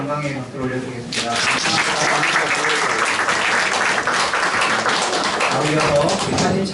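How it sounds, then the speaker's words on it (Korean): Congregation applauding during a church founding thanksgiving service, a loud sustained wave of clapping that builds after a short spoken moment and stays full and even with voices mixed in. "하나님께 영광의 박수를 올려드리겠습니다"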